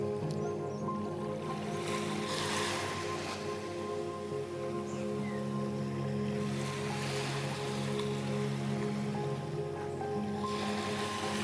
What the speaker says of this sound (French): te laisser voyager avec le bruit de ces vagues